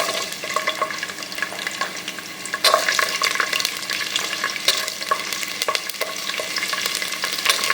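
Garlic sautéing in hot oil for small onion biryani, a continuous crackling sizzle heard up close with intermittent stirring clicks and no talking.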